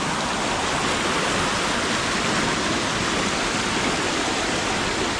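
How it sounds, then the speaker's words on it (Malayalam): Floodwater flowing strongly at a crumbling bank in Kuttanad, Kerala: a loud, dense, continuous rushing roar with no breaks, close by. "നല്ല അപ്പുറത്തുനിന്ന് ഇപ്പുറത്തുനിന്ന് ആദ്യം ശക്തിയായിട്ടാണ് വെള്ളം ഒഴുകി വരുന്നത്."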